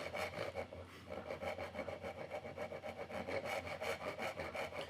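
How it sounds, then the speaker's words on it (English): A hand saw cuts a dovetail in wood for a traditional drawer, its quick rasping strokes repeating in an even back-and-forth rhythm, close and clear, with no voices. "So I'm just blowing away that sawdust so I can keep my eye on the saw and where it's cutting."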